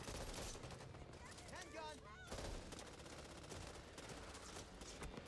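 Burst-fire shots ring out in a video game played on a Steam Deck, repeated rapid clusters mixed with game music and effects, with a voice speaking over them.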